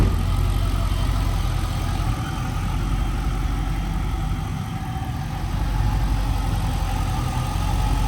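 A V8-swapped Nissan 350Z engine runs steadily with a loud, close, continuous rumble and a slight rise and fall in level, with no talk over it.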